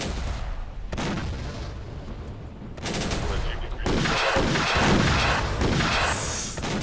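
Heavy gunfire rattles in the Syrian Warfare strategy game during a desert battle, with machine-gun bursts and booming shots building in intensity across the clip.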